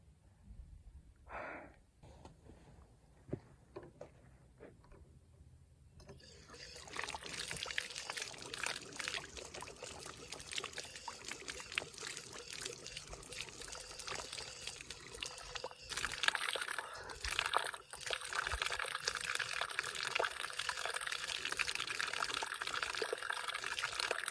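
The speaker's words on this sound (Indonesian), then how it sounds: "Selesai mencuci tangan dan membasuh muka" Water from a mountain stream on Mount Merbabu pours and splashes steadily and close while hands and face are washed, after a short quiet stretch at the start.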